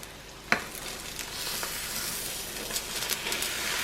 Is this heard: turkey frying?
yes